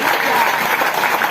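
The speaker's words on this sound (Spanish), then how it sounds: "Vamos a hacer un aplauso a nuestro Dios por estos valientes que están hoy pasando al altar a confesar a Jesucristo." A congregation at a church campaign service applauds loudly and continuously in a dense, even wash of clapping while a voice speaks over it.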